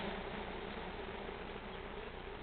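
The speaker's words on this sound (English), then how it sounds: "I just want to grab some of these bees, shake them off into this box in there." A dense, steady buzz from a mass of honey bees being shaken off a frame into a hive box during hive splitting, loud and close throughout, with no voices.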